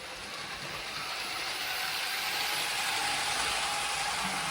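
A Hornby King Class model locomotive's electric motor runs with a soft, even whirr and faint mechanical ticking, close and steady throughout, with no talking.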